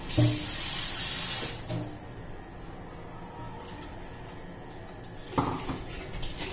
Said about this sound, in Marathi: अजून थोडं पाणी घालते मी.